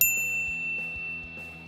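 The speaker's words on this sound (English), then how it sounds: "ring the bell to be notified about our latest videos" A bright notification bell sound effect: one sharp high ding at the start that rings on as a sustained tone and fades slowly, with soft music underneath and no speech.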